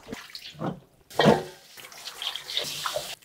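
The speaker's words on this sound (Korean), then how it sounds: "이제 고추를 깨끗하게 이제 씻어 볼게요" Chili peppers rinsed under a running kitchen tap: intermittent splashing and gushing water, close and moderately quiet, in short uneven bursts.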